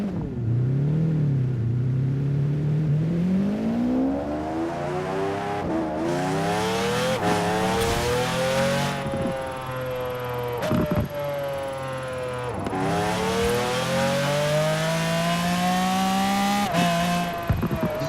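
A KTM X-Bow GT4 engine in Forza Horizon 4 revs repeatedly, climbing through gears with rising whines that drop sharply at each shift, loud and continuous with no talking.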